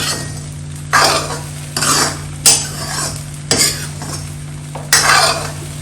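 Semolina being dry-roasted until brown in a pan for sooji laddoos, with a spoon stirring and scraping in five or six distinct loud strokes over a steady low hum, no talking.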